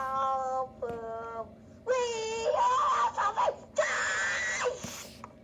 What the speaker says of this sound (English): those are some nice Sammy Classic Sonic fan screams